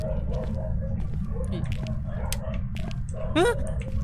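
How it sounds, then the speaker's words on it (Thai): A dog barks and whimpers somewhere in the house while a ghost-hunting horror game plays, giving brief yelps over a steady low hum and scattered clicks, with a sharper cry near the end. "หมาบ้านพี่เห่าว่ะ"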